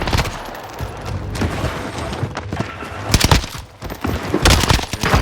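MP40 submachine gun firing in the video game Warzone, bursts of rapid gunfire and sharp cracks in irregular clusters, loud and close, with other game sounds between bursts and no talking.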